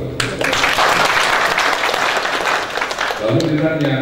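Dense, loud applause from an audience at a memorandum signing between the Indonesian National Police and Untad university, sustained for several seconds before easing, with voices emerging near the end.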